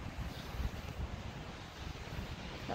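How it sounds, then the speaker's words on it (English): Steady wind rumbling across the microphone outdoors at a beach, a continuous low buffeting with faint surf-like wash behind it and no voices. "it's kind of windy a little bit"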